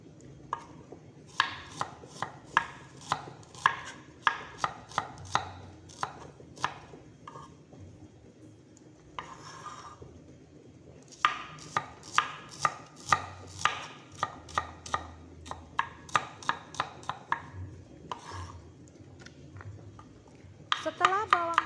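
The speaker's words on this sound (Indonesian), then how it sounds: "Ini adalah bumbu-bumbu yang kita iriskan dari bawang merahnya. Kita iris tipis-tipis ya teman-teman." A knife thinly slicing shallots on a cutting board makes quick, crisp taps in fast bursts, with a short pause in the middle. A voice talks over the cutting.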